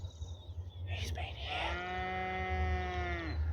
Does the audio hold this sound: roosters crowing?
no